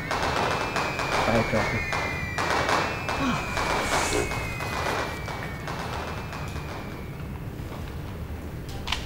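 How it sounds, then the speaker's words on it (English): Fireworks crackle and pop in a dense, continuous barrage throughout a scene from a Chinese horror film set around a cursed palace, with a voice speaking briefly over the bursts. "They're setting off fireworks to scare any wandering ghosts away"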